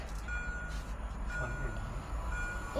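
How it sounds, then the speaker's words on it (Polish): An Intercity passenger train rolls through a small railway station, giving a steady, continuous rumble of wheels and carriages that stays fairly loud throughout, with no talk over it. "Widzowie, jedzie Intercity Koziołek!"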